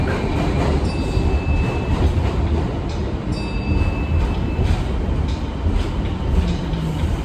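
A New York subway 1 train runs near 191 Street, its loud, continuous rumble and rattling wheels filling the whole stretch, with faint high squeals and no talking.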